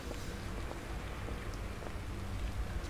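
Rainfall in the horror video game The Evil Within, a steady even patter of drops hissing across surfaces, moderately soft and continuous with no talk.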